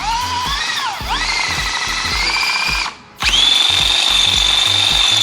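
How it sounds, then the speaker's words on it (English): A power drill with a 1/4 inch bit whines steadily as it bores out a hole in a portable work stand, pausing briefly midway before spinning back up at a higher pitch. "Okay, so I've got a 1/4 drill bit here. I'm going to use this to try to drill it out."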